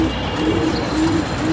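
Pigeons coo in a home loft of around 47 birds at feeding time, a loud, close, continuous low cooing that repeats in soft rolling pulses with no talking.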